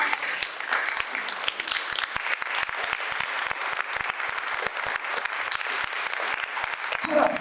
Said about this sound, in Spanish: ¿Cuánto le dan un fuerte aplauso a Jesús?